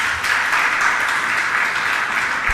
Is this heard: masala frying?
no